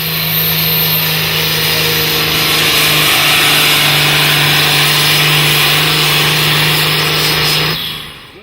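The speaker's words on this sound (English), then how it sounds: "you can't go to Crapaud without seeing its very popular tractor pull" A tractor's engine roars loud and unbroken at a tractor pull competition with a steady droning hum, close and sustained for several seconds before cutting off abruptly at the end.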